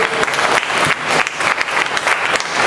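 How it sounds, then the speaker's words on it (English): Audience applause for Elder Time at the 2016 Gullah/Geechee Nation festival opening ceremony, a dense, loud round of clapping that swells and dips in waves, close and continuous throughout. "So please give Elder Time a round of applause."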